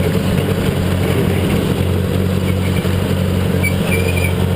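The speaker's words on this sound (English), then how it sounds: "I can't drive over that stuff with the tractor, so I have to do just the small stuff like this" A tractor engine works while brush hogging pine growth, giving a loud, constant, droning rumble with little change in pitch or rhythm throughout.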